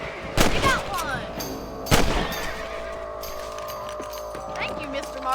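Rifle shots fired at rabbits in the video game Red Dead Redemption: two sharp, loud cracks about a second and a half apart, each ringing out briefly over a steady game ambience with faint voices.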